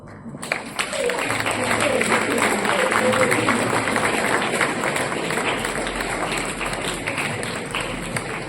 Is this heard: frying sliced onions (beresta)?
no